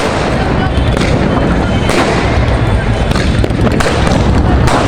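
Diwali firecrackers burst in a loud, dense run of booms and sharp crackles, with several stronger blasts standing out amid a constant fizzing roar and voices partly buried beneath.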